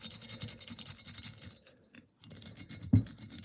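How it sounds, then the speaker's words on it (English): Velcro stuck on a lollipop stick tears at fly-tying dubbing on a Clan Chief variant fly, giving a steady, close-up scratchy rasp that pauses briefly before one sharper scrape. "I just stick a bit on a lollipop stick and I just tear into it"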